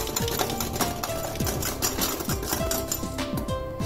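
Continuous whirring buzz of a small handheld blender whipping dalgona coffee, running nonstop, with a busy rattling texture and rising and falling pitch sweeps, close and steady.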